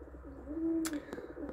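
A pigeon in a breeding loft during pairing season gives a soft, low coo, fairly close and quiet, with a couple of brief sharper knocks or wing sounds near the end and no voices.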